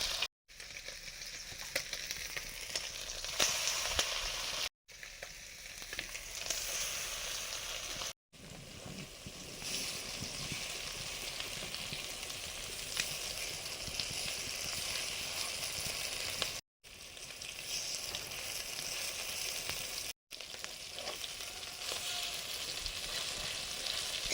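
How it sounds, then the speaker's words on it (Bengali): Fish roe fritters fry in hot oil, giving a continuous dense sizzle and crackle that holds steady throughout, close and alone, with a few short silent breaks. "এবারে ডিমের বড়াগুলো ভাজছি।"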